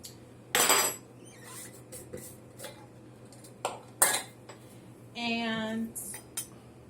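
A metal spoon picked up and handled in a kitchen, a few sharp clinks and rattles against dishes in separate bursts, close by, with quiet gaps between.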